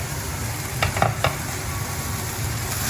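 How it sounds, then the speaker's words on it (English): American chop suey fries in a pan with a steady sizzle, while a few quick scraping strokes of stirring cut through near the middle of the short stretch. "Fry more."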